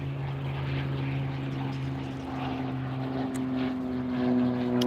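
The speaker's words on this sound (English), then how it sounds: "There's a plane going over." A propeller airplane drones overhead, a steady low hum that swells slightly louder toward the end, heard alone with no talking.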